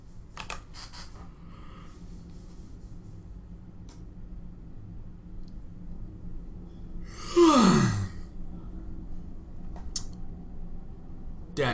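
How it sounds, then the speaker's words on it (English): A single drawn-out yawn rises from a quiet room during a StarCraft match commentary, a loud breathy swell lasting about a second, with soft keyboard clicks and light breathing before and after. "Dat yawn."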